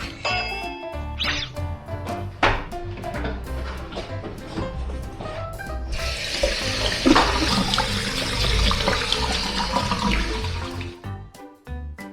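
Tap water runs for hand washing, a steady gushing stream that starts midway after a few clicks and knocks, continues for several seconds, then cuts off.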